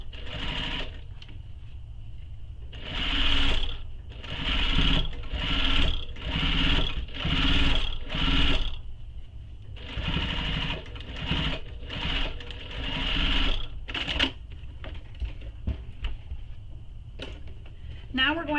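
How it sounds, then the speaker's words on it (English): A sewing machine top stitches along a seam beside card slots on a mini messenger bag panel, running in a series of short rhythmic bursts with brief pauses, close and clear, then falls quiet near the end. "So now I'm going to top stitch along this seam here beside the card slots."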